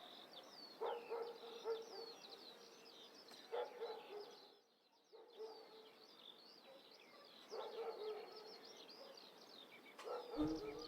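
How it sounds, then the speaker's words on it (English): A bird in a visual novel game calls in repeated bursts of chirping, a few seconds each with short pauses between, fairly loud against a quiet background. "The bird's really that loud?"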